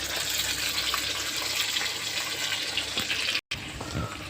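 Water poured into a bowl of spice paste to rinse it, a steady close splashing pour with gurgling, briefly cut off near the end before resuming.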